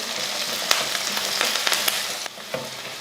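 Small onions and curry leaves frying in a pan give a steady, close sizzle, broken by a few soft stirring scrapes and clicks.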